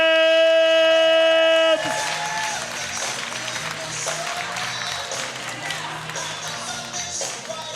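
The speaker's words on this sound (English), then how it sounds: "Now, start clapping, guys. Start clapping right now for Jessica." An audience claps for Jessica, a dense, even patter of many hands that holds steady right after a loud held tone ends, with a voice talking over it.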